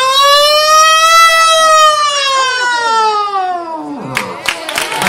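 A man on a Spanish TV show imitates a siren with his voice, singing one long, loud wailing tone that rises and then slowly falls over about four seconds, followed by brief clapping and crowd noise.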